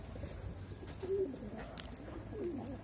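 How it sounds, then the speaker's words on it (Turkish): Young pigeons cooing softly in a village loft, low murmuring coos rising twice against a faint steady background hiss, no voices. "Arkadaşlar bu kuşlar benim özel seçtiğim kuşlar."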